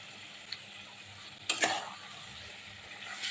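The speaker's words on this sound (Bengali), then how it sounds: "মশলা কষানো হয়ে গেছে, এখন মাংসটা দিব।" Country chicken pieces go into a pan of sautéed turmeric and chili spices, making a sudden burst of sizzle and a soft clatter over a quiet background hiss that fades quickly. No one speaks.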